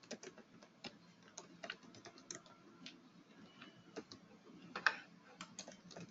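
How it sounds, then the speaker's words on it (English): Computer keyboard typing, a fast irregular run of light key clicks at close range with no talk over it, set against a faint steady room hum. "I'm typing alphabets here."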